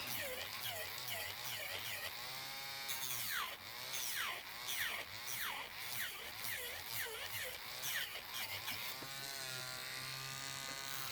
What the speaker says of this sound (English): if I had a stronger nail drill where I didn't have to have it cranked up so ungodly high